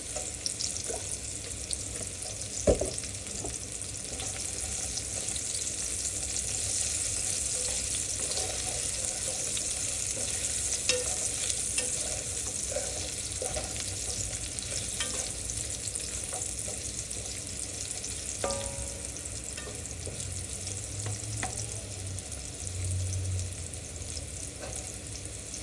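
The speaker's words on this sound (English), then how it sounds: "we're just gonna let these guys sizzle probably about, I don't know, 5 to 10 minutes" Steady sizzling of potatoes frying in hot oil, a continuous crackling hiss with occasional clinks and stirs, no voices.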